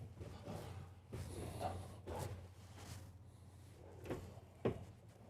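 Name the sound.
soft-close drawers in an RV kitchen closing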